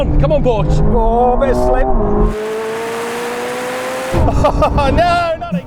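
A Ferrari 296 sports car races in, its engine note rising as it draws nearer during a race, sustained and loud in the middle stretch, with speech in between.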